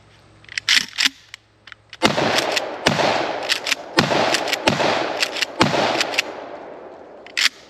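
Mossberg 500 pump-action shotgun fired repeatedly outdoors, with loud sharp blasts landing roughly every second, each followed by a brief rolling echo, mixed with quick clacking bursts between shots.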